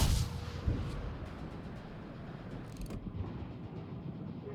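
Cruiser main guns firing in World of Warships, a heavy booming report at the start and another around mid-clip, followed by a rumbling low background with no speech.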